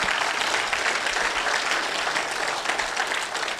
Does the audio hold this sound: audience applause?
yes